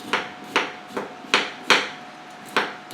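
A spoon scrapes the skin off a fresh piece of ginger in about seven short, evenly spaced rasping strokes, close up and crisp, with no talking.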